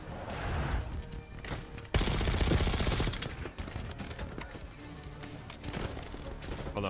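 Dense automatic gunfire and rapid shots from a Call of Duty Black Ops 6 battle, loud and continuous with a heavy burst partway through, mixed with clatter and distant combat noise.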